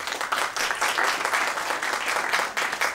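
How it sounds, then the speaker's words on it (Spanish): Applause for the president at an event, a dense, steady burst of many hands clapping that rises and dips slightly over a few seconds, loud and close with no talking over it. "simplemente les pido a todos un aplauso para el presidente que nos acompaña el día de hoy"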